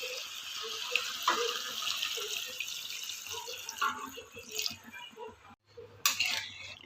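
Hot water pours into a pot of mutton curry with potatoes and masala, a steady close watery splash lasting several seconds with small clinks of utensils, a brief pause near the end, then a final gush.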